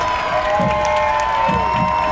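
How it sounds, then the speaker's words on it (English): A large crowd at a high school football game roars steadily in the stands, a dense wash of cheering and shouting with no breaks, loud and sustained throughout. "Crowd gets loud here at Newman."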